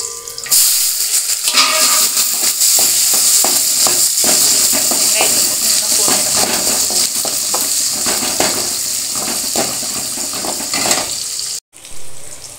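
Mustard seeds, dried chillies and curry leaves fry in hot oil for goat blood poriyal, a loud close crackling sizzle with spattering and stirring that runs steadily, then cuts off abruptly near the end.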